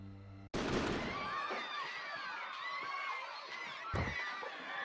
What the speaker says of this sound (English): Suddenly, a loud bang rings out